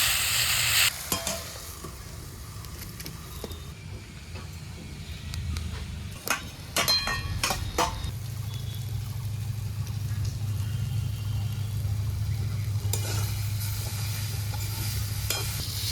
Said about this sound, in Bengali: এখন নেড়ে তেলে ভেজে দেবো